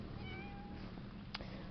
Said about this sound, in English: Talking to me kitty.